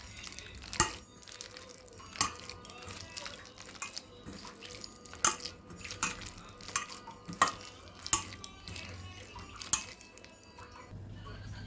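Vegetarian banana flower pakora batter with a pinch of baking soda is kneaded by hand. Soft, wet squelching and slapping repeat in an irregular rhythm, fairly faint and close, with no speech.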